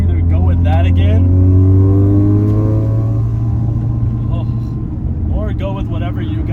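A turbocharged rotary engine in a Mazda RX-7 sounds loud and close from inside the moving car, a steady droning rev that holds high and then slowly sags as the engine note falls, with no talk over it.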